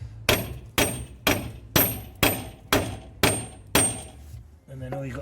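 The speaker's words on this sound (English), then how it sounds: "all you got to do is give it a little bit of a few whacks, and then it should come off" Eight sharp, evenly spaced hammer blows ring out on a front wheel hub of a 2004 Saab 9-3, each metallic strike close and loud with a short ringing decay.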